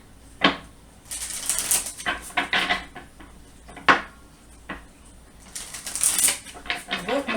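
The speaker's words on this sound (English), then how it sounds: "So we'll pull a few cards here." Messenger Oracle cards being shuffled and drawn by hand, with a run of crisp papery flicks, riffles and taps in uneven bursts, close and fairly loud.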